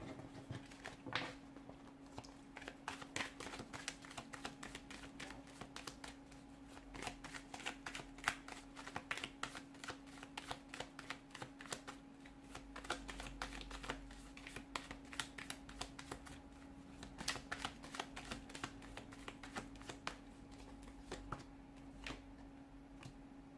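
A deck of tarot cards is shuffled over and over, giving a long run of quick, dense riffling pats and snaps with a steady low hum behind it and no talking.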